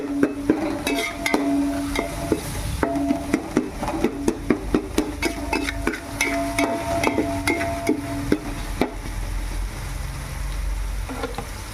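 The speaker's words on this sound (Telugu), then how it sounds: "కొద్దిగా ఆనియన్స్ ఫ్రై కావాలి ఇలా ఆనియన్స్ కొంచెం రెడ్ అయిన తర్వాత టమాటో వేసుకోవాలి" Onions and tomato fry in a pan for a palak bajji dish, with a steady sizzle under repeated sharp metal clinks and scrapes from stirring, close and fairly loud, no talking.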